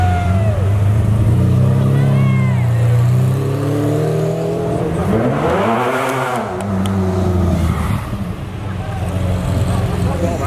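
A McLaren F1 HDK sports car engine revs and rises in pitch close by at Monterey Car Week, its tone sweeping up and down, with people talking over it.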